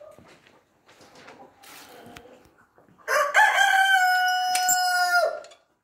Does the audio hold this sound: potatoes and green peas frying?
no